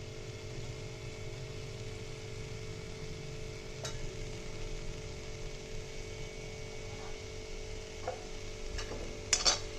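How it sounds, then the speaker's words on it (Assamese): Tomatoes are stirred into an oil-free chicken gravy in a pan, with a faint, steady scraping over a low hum and a few sharp clinks of the spoon near the end. "বিলাহীখিনি দি ভালকৈ এনেকৈ লৰাই"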